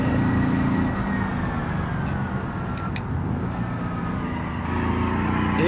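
Engine of a small, light rear-engined car with off-road tires in the driving game BeamNG, a steady droning hum that holds at an even level throughout, with a couple of brief high clicks partway through.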